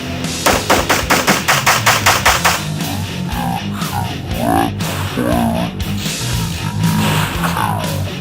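Shots from a CZ-82 pistol ring out in a fast, loud, evenly spaced string over the first few seconds, then give way to mechanical clanks and rustling nearby.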